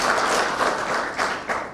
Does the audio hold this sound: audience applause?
yes